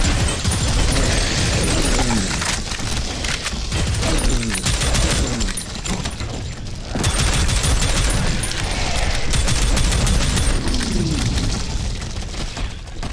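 Rapid pistol gunfire in the shooter video game Prodeus, a dense, loud run of repeated shots and impacts that continues almost without pause, with booms and crashes mixed in and no talking.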